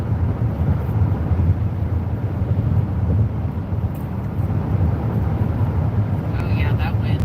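Wind buffets a Jeep driving through the desert, a steady loud rumbling roar that continues throughout, with some speech mixed in.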